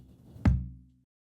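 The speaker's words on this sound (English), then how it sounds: "I have a tom to do some fills." A single dry acoustic tom hit, close and short, with a low thud that dies away quickly and no room echo.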